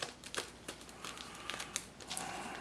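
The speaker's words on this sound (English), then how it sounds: "I'm going to tape it" Faint crinkling and sharp little tearing snaps come from tape being pulled and pressed around a homemade wax paper and aluminum foil capacitor, in scattered, irregular bursts up close.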